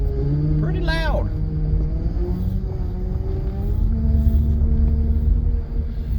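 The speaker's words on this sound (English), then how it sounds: "The power steering really whines." An old car with a 4.6 DOHC engine idles with a steady mechanical drone and a continuous whine from the power steering, close by, while a voice talks briefly near the start.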